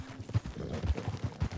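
Hooves of a Fox Trotter horse in Red Dead Redemption 2 thud in an irregular clip-clop rhythm at moderate loudness, with low, dull footfalls repeating over a short stretch.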